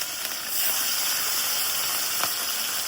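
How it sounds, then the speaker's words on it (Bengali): Katla fish fries in a pan, giving a steady, loud sizzling hiss that continues throughout with no one speaking. "হ্যাঁ, মাছ ভাজতে দিয়ে দিলাম।"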